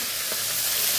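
Tomato pieces hitting hot oil in a frying pan while cooking a vegetarian dish, a steady close sizzle and hiss lasting about a second, growing slightly louder, with no talking.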